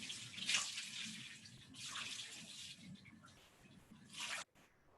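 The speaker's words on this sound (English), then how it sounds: "And I'll give it a more thorough rinse off here." Water from a tap runs over an item contaminated with lead as it is rinsed into a waste sink, a soft splashing hiss in a few faint bursts heard close, with no talking.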